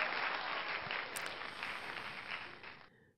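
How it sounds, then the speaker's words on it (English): A crowd cheering sound effect plays during an Arkham Horror card game, a sustained wash of applause and crowd noise that holds steady before cutting off abruptly at the end. "and the crowd goes wild."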